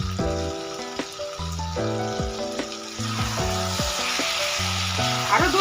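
Boneless chicken and capsicum sauté in a hot pan with a loud, continuous sizzle, while steady tonal beeping runs through much of it, close and without talk.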